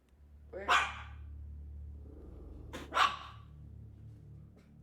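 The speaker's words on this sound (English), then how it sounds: "her dog continues on barking as if there's something there" A dog gives two sharp barks a couple of seconds apart, close and loud against a quiet indoor background.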